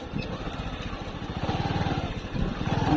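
A motorcycle engine braking on a bad, rain-soaked road, a steady mid-pitched engine drone with pulsing rhythm that grows slightly louder, close and continuous.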